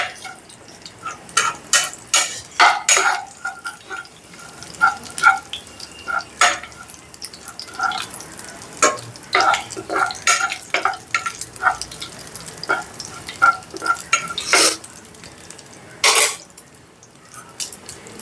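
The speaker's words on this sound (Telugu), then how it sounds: "హై పెట్టుకొని వేపుకున్నాం" Ingredients for a gongura and dried prawn curry fry over high heat in a pan, with a steady sizzle under frequent sharp clinks and scrapes of a spoon stirring irregularly, close and loud, no voices.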